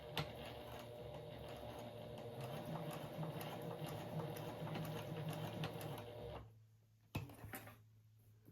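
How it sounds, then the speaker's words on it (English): Sewing machine chain stitching a drawstring basket, a close, steady mechanical whir with a fast rhythmic needle patter that stops near the end, followed by a couple of faint clicks. "it's sort of just a chain sewing concept like you saw me do with the drawstring channels"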